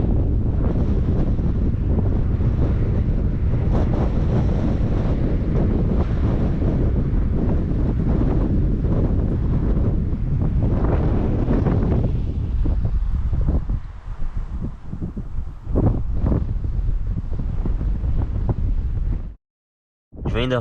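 Strong wind buffets the microphone over the roar of ocean waves on the Bonavista coast, a loud, steady rush that eases slightly near the end before cutting out briefly.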